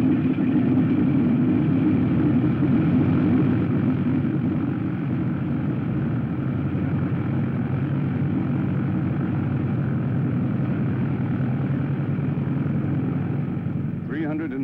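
Propeller-driven warplanes drone in the Pearl Harbor attack, a thick continuous engine roar holding steady and loud from start to finish with little variation, fading slightly in the last moment.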